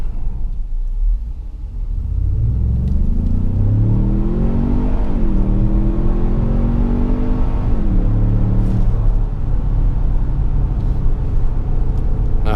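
A 2017 Ford Explorer Sport with a 365 hp twin-turbo engine, transmission in sport mode, accelerates hard from within the cabin, its deep rumble climbing in pitch through several gear changes before settling into a steady drone.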